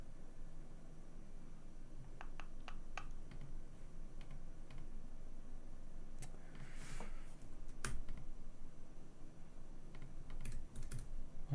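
Someone types on a computer keyboard, soft scattered key clicks at a quiet, close distance over a low steady background hum, with a few sharper taps later on.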